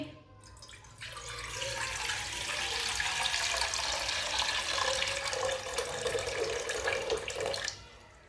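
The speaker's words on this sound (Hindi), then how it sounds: "3 गिलास पानी डालेंगे।" Water pours steadily from a glass into a pot of soaked rice for several seconds, a close splashing rush that stops abruptly, while making jaggery rice.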